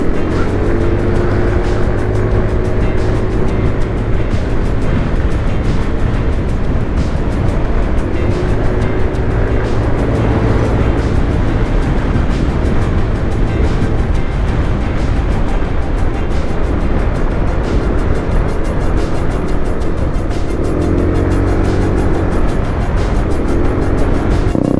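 A Jeep engine on a road trip runs as a loud, steady drone with a constant low rumble and rising and falling whine, heard from inside or close by without a break.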